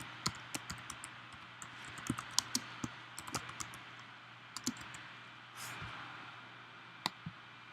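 Keystrokes on a computer keyboard while saving a selection in image-editing software, a few quiet scattered clicks spread over several seconds against low room hum, with a brief soft rustle midway.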